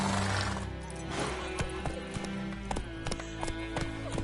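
A horse gallops in the video game Witcher 3, its rapid rhythmic hoofbeats clopping steadily and close after a brief whinny-like start, with faint game sounds behind.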